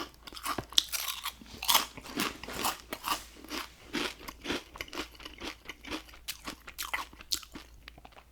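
Potato chips crunched and chewed close to the microphone, a steady run of sharp crackling bites and chews in irregular bursts filling the whole stretch, with no talking.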